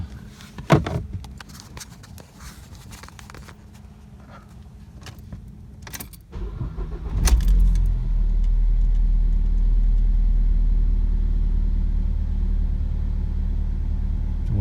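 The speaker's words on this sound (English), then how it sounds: "We're going to go ahead and start her up and see how we do." A car starting after an ignition coil replacement to clear codes P2300–P2311: keys jangle and click, the starter cranks briefly, then the engine catches and settles into a steady, loud, low idle rumble.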